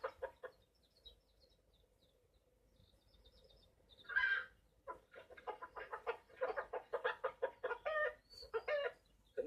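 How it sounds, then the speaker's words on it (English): Farmyard hens clucking in a children's animated story, with a short burst of squawking followed by a busy run of repeated, fairly close clucks, no talk over them. "But Mrs. Thompson's hens were wide awake"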